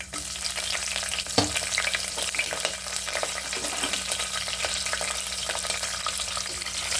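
Red and green chilies fry in oil in a pan for a rice and lentil dish, a continuous bright sizzle with stirring scrapes and occasional louder spatters, close and with no voices.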